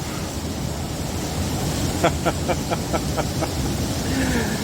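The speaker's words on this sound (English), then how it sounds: "you could listen to that wind too. It sounds like freaking jets going by" Strong, steady wind roaring through trees during a severe Michigan thunderstorm, a dense continuous rush close by with no letup, while a regular series of brief tapping beats rises through it midway.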